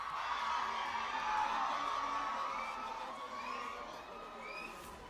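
A large crowd shouts and cheers at a gathering, with whoops and raised voices rising together. The sound swells early, then slowly fades into a softer hum toward the end.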